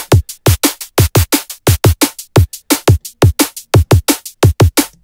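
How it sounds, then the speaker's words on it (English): Drum kit beat layered with added white noise for crunch: a steady, loud pattern of sharp, hissy broadband hits, evenly spaced and close, with no voices. "it's just adding some white noise to the overall drum kit."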